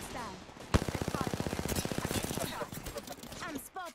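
Rapid automatic gunfire in an Apex Legends-style PC shooter match, a dense string of evenly spaced shots after one sharp opening blast, with a voice talking over part of it.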